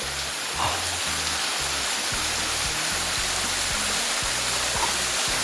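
Steady roar of a waterfall near an ancient cave in Ethiopia, a dense, continuous rush of falling water that holds even loudness throughout with no voices.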